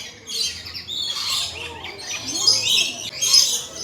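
Many birds inside a zoo aviary squawk and chirp in overlapping bursts, loud and close, a busy continuous chatter with no voices.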